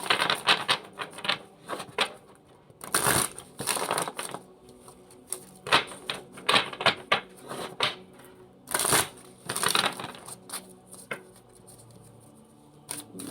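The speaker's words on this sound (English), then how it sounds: "let's grab a card from this deck" Tarot cards shuffled and drawn from a deck, with bursts of riffling and snapping card sounds between quieter pauses, close and crisp with no talk.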